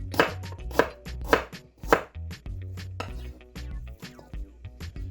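Fresh ginger chopped into small pieces with a knife on a board for a watermelon pineapple smoothie: several sharp, close knife strikes at the start, then steady softer cutting with low thuds between.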